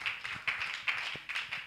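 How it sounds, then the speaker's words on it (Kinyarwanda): Church congregation claps for God during a joyful service, about four evenly spaced loud claps in a steady rhythm over a faint background, fairly near. "Dukomere Imana amashyi"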